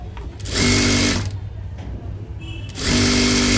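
A sewing machine stitching a strip for a blouse, its loud whirring motor running in two long close bursts with a brief slowdown between them, a faint voice audible during the pause.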